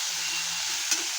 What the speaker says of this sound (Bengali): দিয়ে এখন ভালো করে কষাতে থাকবো